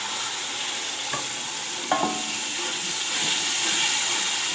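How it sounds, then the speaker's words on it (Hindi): Green chillies and lemon frying in a pan for Punjabi kadhi pakora, a steady soft sizzle with a couple of brief stirring clinks, close and alone without talk. "इसको 2 मिनट भूनते हैं।"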